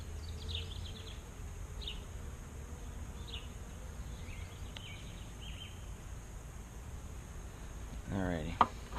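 Honey bees at an opened hive during an inspection after smoking, a soft continuous buzzing hum with faint bird chirps in the distance and a brief handling rustle near the end.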